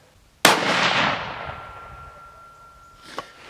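A single CZ 600 Trail rifle shot fired at a target with Hornady Frontier 5.56 ammunition, a sharp loud crack followed by a long decaying echo and a faint late metallic ping.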